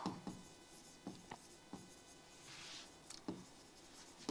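Chalk or marker scratching and tapping on a classroom board during a physics lesson, a series of short irregular strokes with a longer rubbing stretch, fairly quiet and close, no talking.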